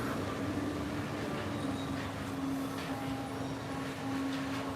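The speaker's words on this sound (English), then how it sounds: "Bye, monorail." A Walt Disney World resort monorail rolls past near the Polynesian resort, a steady, loud rumble with a sustained electric hum that holds evenly throughout, with no talking over it.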